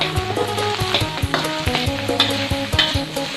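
Steamed crab and fried rice with garlic being stir-fried in a wok, brisk rhythmic scraping and clattering of a spatula over a constant loud sizzle.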